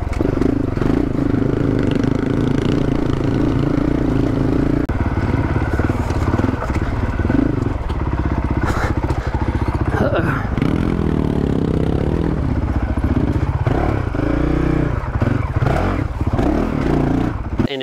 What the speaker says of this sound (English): the Honda CRF 450 RL, it really is the perfect bike for the trip